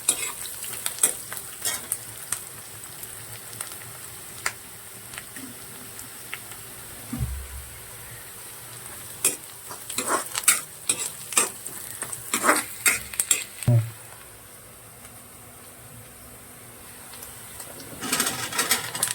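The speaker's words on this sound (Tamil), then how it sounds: "வெங்காயம் போட்டு வெங்காயம் நல்லா செவட்டு கொஞ்சம்" Onions sautéing in a pan for a Tamil pumpkin poriyal, with a steady low sizzle under repeated scraping stirs and spoon clinks. Two brief quieter stretches come near the middle and end.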